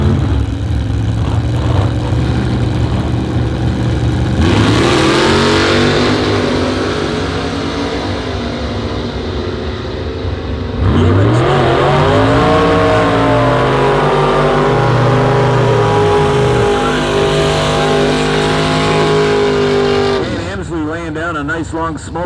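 A 1952 Chevy gasser drag car with a 454 engine revs loudly at a drag strip, its pitch climbing in repeated bursts while an announcer talks over it.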